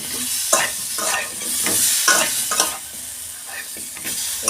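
Mango pieces for mango chutney are stirred in a pan over a steady sizzle, with a spoon scraping and clacking in a loose rhythm of about one stroke per half second, close and clear.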